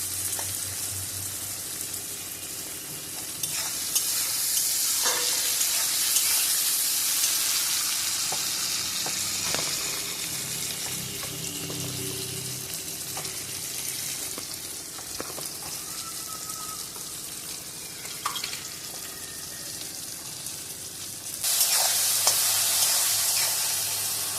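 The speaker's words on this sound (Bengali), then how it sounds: "পেঁয়াজটাকেও একটু নেড়ে নিচ্ছি।" Onions and tomatoes fry in a pan and are stirred with a spatula, a continuous close sizzle with scraping and knocks that swells louder near the end.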